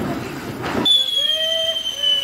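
A whistling Diwali firecracker is lit outdoors: a brief rushing hiss gives way to a sustained, piercing whistle that holds steady and close for over a second.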